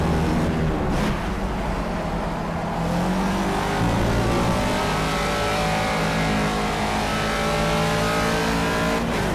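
An M1 ProCar race car in Project CARS roars loudly and continuously at high revs, with tire noise underneath and no talk.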